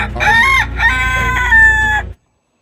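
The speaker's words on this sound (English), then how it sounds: "America's chickens are coming home to roost." A rooster crows loudly and close, a long drawn-out cock-a-doodle-doo lasting about two seconds, with chicken clucking beneath it, then the clip falls to abrupt silence.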